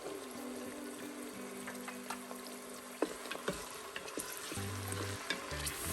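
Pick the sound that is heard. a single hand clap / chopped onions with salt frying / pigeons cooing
chopped onions with salt frying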